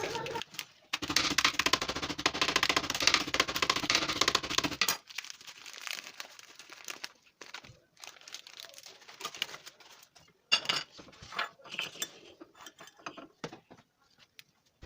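Oreo cookies are crushed for a dessert, opening with a sustained loud crunching and crinkling, then a string of sharper, irregular cracks and snaps at close range.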